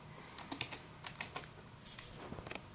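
Quick typing on a computer keyboard at a desk, a fast uneven run of light close key clicks at low volume with no voices.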